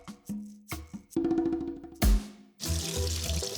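Tap water runs into a kitchen sink as hands are washed before cooking, a close splashing stream broken by short pauses and shifts in flow, with clunks of hands and objects in the basin.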